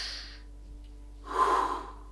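Shallow chest breathing is demonstrated by a person, a soft exhale trailing off and then a sharp, noisy in-breath like a gasp, close and alone without speech.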